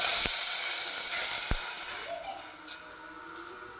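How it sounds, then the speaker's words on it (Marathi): Tamarind extract poured into a hot garlic-chilli tempering for chinchechi kadhi, giving a loud steady sizzle with a few sharp crackles that slowly quiets down. "चिंचेचा खोळ मी सोडला"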